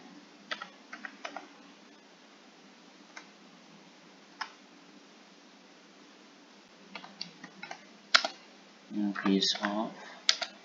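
Computer keyboard typing: scattered single key taps spaced apart, then a quicker cluster of clicks and a louder rattling burst near the end, close and clear over a quiet background.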